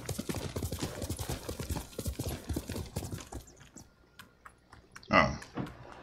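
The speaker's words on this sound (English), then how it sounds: "Horse!" Horse hooves clip-clop in a steady, fairly close rhythm in the Ghost of Tsushima video game, continuing for several seconds before a short louder burst of movement near the end.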